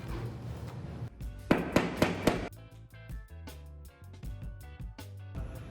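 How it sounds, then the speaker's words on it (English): Several sharp hammer taps on bed frame connectors land in a quick cluster, ringing brightly, with lighter knocks and a low hum continuing around them. "You can use your hammer if you need a little help."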